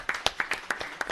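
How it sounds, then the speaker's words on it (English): Audience at a town board meeting claps, a short burst of sparse, distinct hand claps from a small nearby crowd with no talk over it. "Let's give Riley a big round of applause, please."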